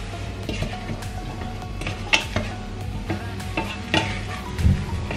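Onion sizzles in a pot with carrots, cayenne pepper and ground garlic, a close, even frying hiss broken by a few sharp clinks of a utensil stirring against the pan.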